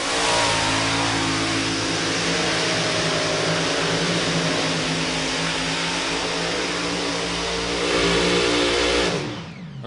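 An 8,000 horsepower pulling tractor engine roars at full throttle in a loud, sustained drone at a competition pull, swelling briefly near the end before cutting off abruptly.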